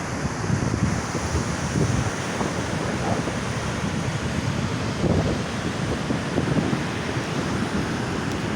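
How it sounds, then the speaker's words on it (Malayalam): Sea waves wash continuously onto the shore at Kayikkara in Kerala, with steady wind buffeting the microphone throughout, loud and close with no speech. "ഇത് കടലാണിത്."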